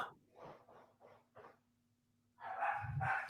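Several dogs bark in short, separate yaps at a moderate distance, followed by a denser cluster of barking and a low snuffle or growl near the end.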